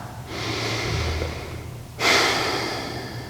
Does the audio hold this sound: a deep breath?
yes